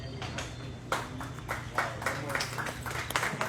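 An audience applauds at a Regen Week 2024 event, a scattered patter of claps spread through the room at moderate distance, with a low hum of background sound beneath.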